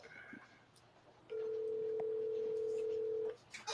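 A steady telephone dial tone plays over a speakerphone for about two seconds, loud and continuous, with quiet background noise before and after it.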